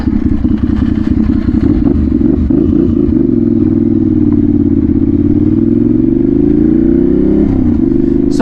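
A motorcycle ridden along at steady speed, its engine droning loud and close throughout, with clattering early on and pitch shifts as it changes speed; no one speaks.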